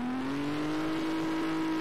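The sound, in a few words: car accelerating in Garry's Mod (ACF car, video game)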